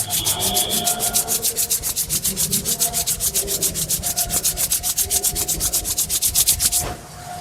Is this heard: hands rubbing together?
yes